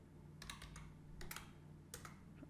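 Keys clatter on a computer keyboard while code is entered for a CodeIgniter 3 blog CMS project, three short bursts of quick clicks separated by pauses, close and fairly quiet.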